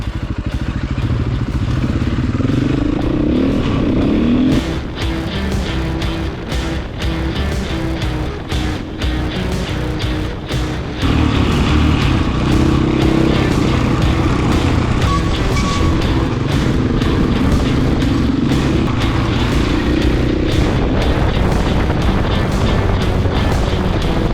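Rally motorcycles on the Dinaric Rally roar past continuously, engines loud and rough with clattering bursts and shifting revs, a dense near mechanical din throughout.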